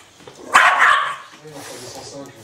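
A dog gives a short burst of barking in a room, mid-loud and close, with people talking around it before and after.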